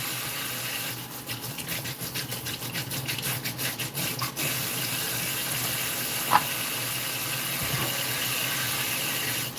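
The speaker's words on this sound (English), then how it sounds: "So let's get the water going" Kitchen tap running to rinse fresh dill, a steady close hiss of flowing water with a brief stretch of rapid fluttering splashes early on and a single small clack partway through.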